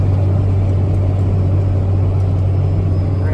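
Truck engine pulling uphill in third gear, a loud constant low drone with deep rumble and road noise, steady and close, with no talk.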